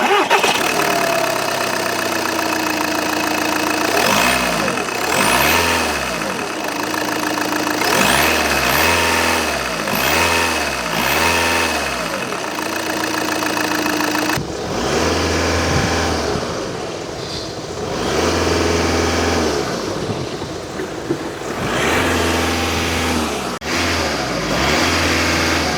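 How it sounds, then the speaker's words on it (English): A 2012 Volkswagen Jetta TDI diesel four-cylinder starts and runs close by, settling into a steady idle with a few blips of revving between stretches of even engine drone. "let's go ahead and listen to what a diesel 4-cylinder sounds like."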